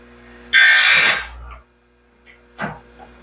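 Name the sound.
sawmill band blade being sharpened on a grinder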